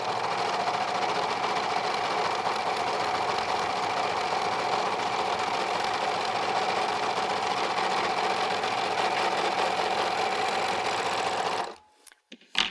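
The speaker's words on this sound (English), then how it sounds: "I'm going to run my fabric back through one more time" American Home serger running continuously, sewing fabric with a 3-thread narrow hem stitch; a steady, loud mechanical whir with rapid needle chatter that stops abruptly near the end, followed by brief quiet clicks.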